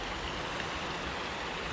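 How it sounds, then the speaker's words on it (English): A woodland stream or creek runs in a steady, unbroken rushing wash, heard up close with no other sounds standing out. "we came down here because there's a stream"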